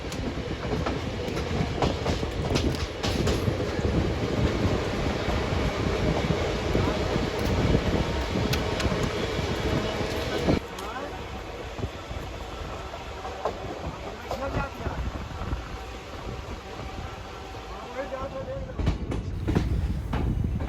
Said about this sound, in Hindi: ट्रेन अपने next Holt Lucknow railway station की ओर अग्रसर है।